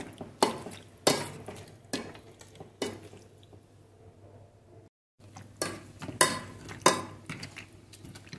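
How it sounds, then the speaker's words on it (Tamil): Cooked tomatoes being mashed for chutney in a pan, a series of distinct scraping, squishing strokes with a short pause midway, close and moderately loud. "எல்லாத்தையும் ஒன்றா மேஷ் பண்ணணும்"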